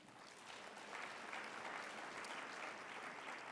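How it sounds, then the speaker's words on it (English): Steady, dense audience applause for the NABJ founders, a sustained wash of clapping throughout at a 2013 NABJ convention farewell speech in Orlando, with no voices over it. "So give our founders a round of applause"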